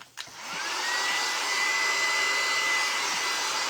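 A hair dryer blows steadily on craft paste used for a rustic star stand display, a loud continuous whoosh starting after a brief click and running unbroken throughout.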